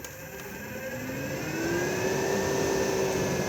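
Roof vent fan in a 2020 Benimar Tessoro T487 motorhome, its blades winding up into a steady whirring hum that rises gradually in pitch and loudness, heard alone.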